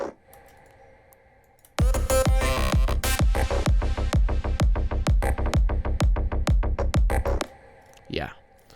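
A dense electronic drop kicks in after a quiet start, punchy pulsing bass hits with a layered vocal sample in a steady driving beat, loud for several seconds before cutting back to a faint tail with a brief swooping sound.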